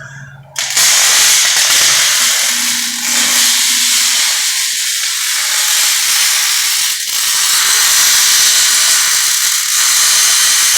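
Arc welding gives off a loud, continuous crackling hiss that starts abruptly and holds steady for about ten seconds, close to the microphone, with faint talk underneath at first.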